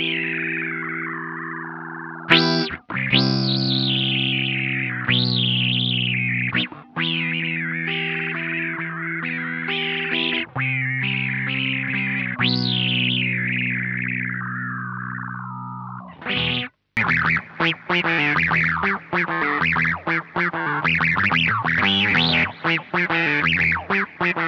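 An electric guitar runs through a Mooer Mod Factory modulation pedal, playing sustained, wavering notes and swooping pitch sweeps with a chorus-like shimmer. Partway through it shifts to a choppier, pulsing distorted pattern with short gaps, loud and close, with no voice.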